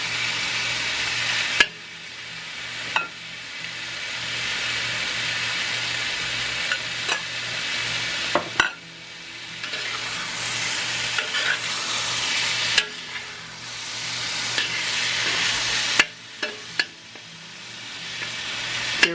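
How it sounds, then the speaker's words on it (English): Pork belly stir-frying in a pan for a Cantonese stir fry: steady loud sizzling throughout, broken by periodic sharp scrapes and clatters of a spatula tossing the meat, close up with no talking. "we're going to get the pork belly cooked up and return it to the bowl"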